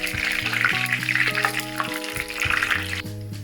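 Curry leaves deep-frying until crisp for a spicy Sri Lankan-style mixture, a steady bright sizzle of hot oil running throughout beneath a layer of music.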